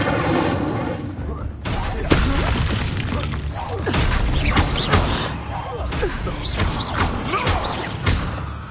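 The Incendio fire spell cast in Hogwarts Legacy, loud bursting whooshes and crackling impacts amid combat clatter, with voices calling out over the action.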